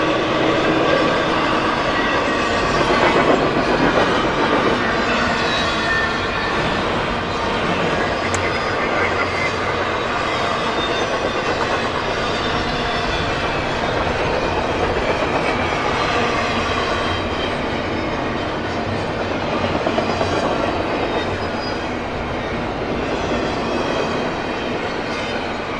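A train rolling through a New York blizzard, a long continuous rumble with rhythmic wheel clatter, moderately close and steady throughout, with faint voices underneath.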